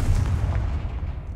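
The Confringo fire spell in Hogwarts Legacy lands as a deep, rumbling blast, heavy and booming, that decays over about a second and a half with no voices.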